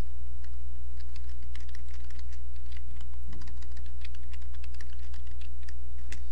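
Steady typing on a computer keyboard: many close, sharp key taps in an irregular run over a constant low electrical hum, with no speech.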